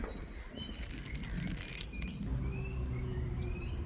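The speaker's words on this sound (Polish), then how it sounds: "Słychać też i ptaki, słychać wiosnę." Birds chirp and call faintly in a park in spring, with short high tweets scattered over a steady low background hum.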